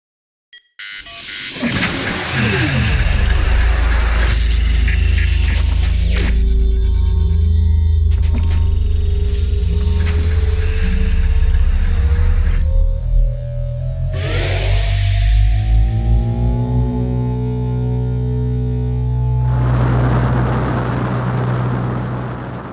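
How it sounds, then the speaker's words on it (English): Sci-fi sound effects: a sharp hiss and mechanical airlock clunks, then a deep, rising engine rumble and whine that hums on loudly to the end. "we have our airlock at the bottom that you heard"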